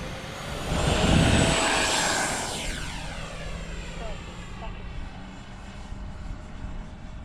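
A Freewing F-16 RC jet's engine whine sweeps past as it lands, loudest early on then fading and lowering in pitch as it slows, with a steady tone lingering.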